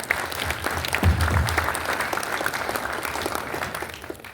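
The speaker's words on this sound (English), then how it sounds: "Let's clap for them." A graduation crowd claps for scholarship students, a warm steady applause with a brief bump of noise early on, continuing evenly throughout.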